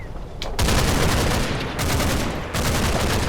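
Bren light machine gun firing in the WWII strategy game Combat Mission: Battle for Normandy, a loud, dense burst of rapid gunfire in sustained volleys with brief pauses, alone and close.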